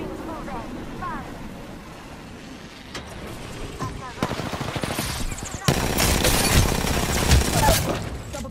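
Gunfire in the video game Apex Legends opens up as rapid automatic bursts that grow louder and denser toward the end, with a game voice speaking over the action.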